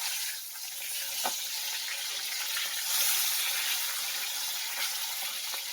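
Salted fish sizzle in hot oil after being flipped in a pan, a constant close hiss with faint clicks and no voices.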